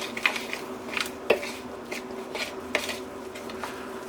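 Spoon scraping and tapping against a bowl while vegan peach cobbler batter is mixed, a quiet sequence of light clinks and soft stirring scrapes spaced irregularly, close up with no talking.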